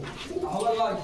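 Pigeons coo softly at a pigeon market in Bogura, a low rolling coo in the background with people talking close by.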